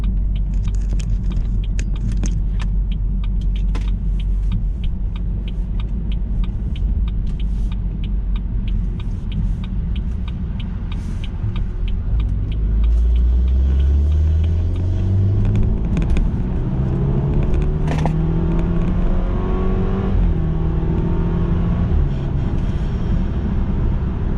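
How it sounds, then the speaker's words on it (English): A car cruising on a highway after a merge, its exhaust drone steady and loud throughout, with low rumble rising in pitch as it accelerates partway through, no talking. "So we'll just jump on to this highway here, and I'll just get into it, and then we'll cruise for a little bit."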